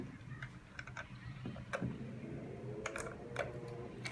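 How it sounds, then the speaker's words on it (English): An SD card goes into the slot of a 4-channel AHD 720P vehicle mobile DVR, with several small plastic clicks and ticks, close and quiet, irregularly spaced against faint background noise. "let's put the SD card in the slot"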